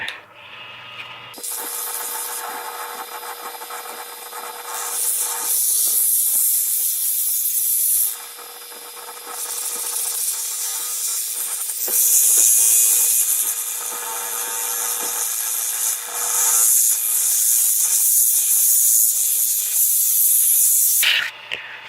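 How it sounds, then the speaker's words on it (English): A loud, steady hissing whir of sanding against an egg-shaped wooden box spinning on a lathe runs almost continuously, broken by a few brief pauses where the pressure lets up. "I'm going to sand this up"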